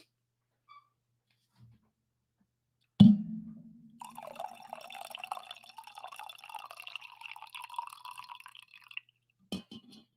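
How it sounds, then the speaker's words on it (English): Coffee poured into a mug: a single clunk of the pot set down, then about five seconds of steady trickling liquid close by, ending with a short knock. "I need to pour some coffee here first before we get rolling"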